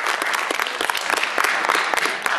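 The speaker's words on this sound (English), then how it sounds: "Give Lauren a round of applause" A small audience gives a round of applause for a performer, with individual hand claps clearly distinguishable in an uneven, lively patter, close and fairly loud.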